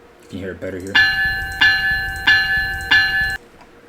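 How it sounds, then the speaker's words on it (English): A bright, warped-sounding electronic train bell from a newer Rotem train in Train Sim World rings four evenly spaced times, clear and ringing, after a short spoken line. "Here's that warped E-bell I was talking about with the new Rotoms."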